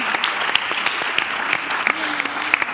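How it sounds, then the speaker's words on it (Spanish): Steady applause from a seated audience at a conference on gender equality, a dense wash of clapping with sharper individual claps, and a voice briefly audible beneath. "Un aplauso para ellos."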